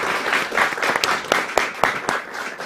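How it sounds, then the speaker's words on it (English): Audience applause at a mining first aid and safety competition ceremony: a crowd claps steadily, with several sharp, louder individual claps standing out near the microphone. "A round of applause."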